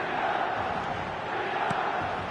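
Football stadium crowd in a video game, a continuous dense roar of many voices with a murmuring, chanting texture and one brief thud near the end.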